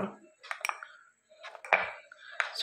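A spoon scrapes and clinks against a bowl in short irregular bursts as potato batter with added baking soda is mixed, close and fairly loud, with brief pauses between strokes.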